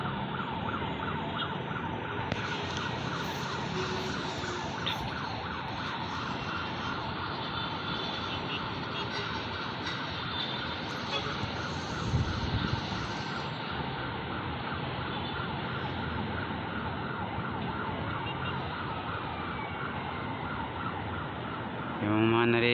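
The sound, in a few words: sirens of ambulance and fire trucks heading to a fire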